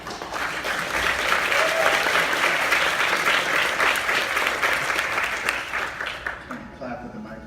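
An audience at a university undergraduate film thesis screening Q&A claps together, a dense sustained round of applause that holds steady for several seconds before thinning out and fading at the end, with faint voices underneath.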